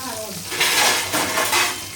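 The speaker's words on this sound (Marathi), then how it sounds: "हे बघा फक्त गॅसवरती ना ऑइल सगळं उडते" Oil spattering and crackling loudly in a pan with chillies, curry leaves and crushed garlic, a close, dense sizzle swelling in bursts with faint utensil scrapes, no voices.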